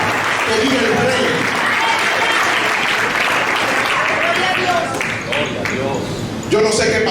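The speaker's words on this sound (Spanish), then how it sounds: "Alguien que le dé un aplauso fuerte a Cristo" Church congregation applauds loudly for Christ during a Spanish-language evangelical service, a steady wash of clapping mixed with voices and shouts throughout.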